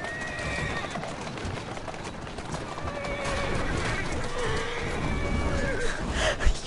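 In Assassin's Creed Syndicate gameplay, a horse whinnies and its hooves clip-clop over a busy game soundscape, with someone talking throughout.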